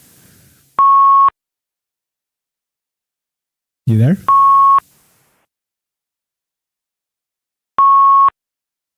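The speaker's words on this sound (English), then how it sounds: "what's the beeping? You beeping?" Three separate steady electronic beeps sound at regular intervals, like a phone's call-waiting tone, with a brief spoken question between the first two.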